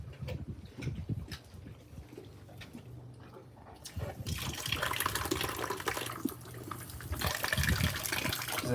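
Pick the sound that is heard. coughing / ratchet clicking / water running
water running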